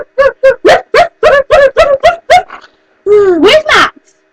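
A dog barks in a quick, loud run of about nine evenly spaced barks close by, then pauses and lets out a longer yelping whine, with no talking over it.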